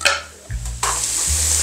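Diced fresh tomatoes tip into a hot pan for chicken jollof rice and are stirred, a burst of sizzling and frying rising under a scraping stir, with brief pan clatter at the start.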